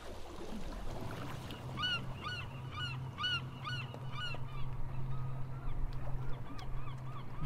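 A seagull in the video game An English Haunting calls in a run of quick, bright honking squawks at moderate distance, over a steady low hum of ambient background noise, with no talking.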